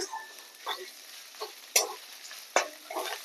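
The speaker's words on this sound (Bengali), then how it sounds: "কাঁচা লঙ্কা বাটাটা দিয়ে দিয়েছি দিয়ে ভালো করে কচিয়ে নেব" Green chili paste fries in oil with garlic in a pan, with a light crackle and scattered spatula scrapes and two sharp clacks against the pan, close and fairly quiet.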